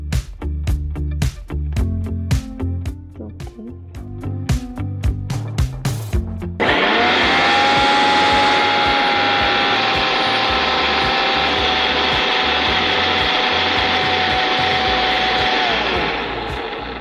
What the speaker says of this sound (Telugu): మనం దీన్ని ఇప్పుడు మిక్సీ పట్టేసుకుంటాం.